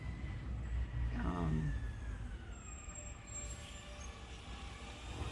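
Garbage truck rumbling outside open doors, a low heavy engine drone with a brief mechanical whine, moderately distant and steady throughout.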